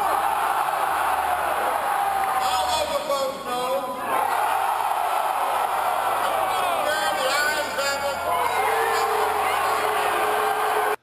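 A dense crowd of Republican National Convention delegates on the convention floor shouting and calling out during a voice vote, recorded on a cell phone from within the throng, with loud, continuous overlapping voices and cheers.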